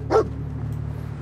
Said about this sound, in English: Okay, the dog. Look at the dog.